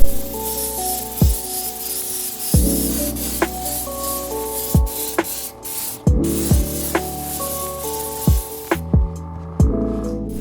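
Aerosol paint sprayed in light coats onto a scale-model Subaru BRZ body: a series of short, close hissing bursts, each starting with a sharp nozzle click, repeated roughly every second or two over a faint background hum.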